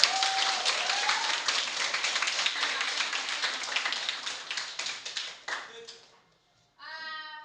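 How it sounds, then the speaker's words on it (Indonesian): Classroom students clap their hands together in a lively burst, children's voices chattering through it; the clapping thins and fades out near the end, followed by a short pause and then a brief tonal sound. "tepuk tangan dulu untuk kalian"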